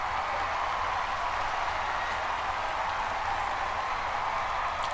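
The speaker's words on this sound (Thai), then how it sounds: "ขอเสียงปรบมือกับหน้ากากเป็ดน้อย" A studio audience at the Thai Mask Singer applauds a performer, with dense, even clapping that stays steady and fairly loud throughout, no voices on top.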